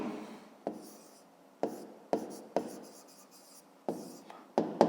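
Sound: writing on a board

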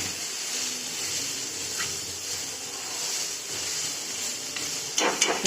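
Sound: tempering sizzling while roasting in iron kadai

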